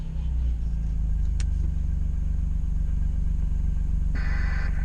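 A farm vehicle's engine idles to warm up near a barn, a loud, low, steady rumble with a regular pulsing throb that holds throughout, joined near the end by a brief higher hiss.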